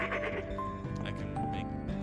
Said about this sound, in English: Do you hear my goat noises?